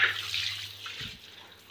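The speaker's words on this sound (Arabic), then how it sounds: "هتملى ميه نظيفه، عما البانيو يتملي" Clean water pouring from a tap into a bathtub as it fills, a hissing rush that is strongest at first and then eases to a softer, quieter trickle.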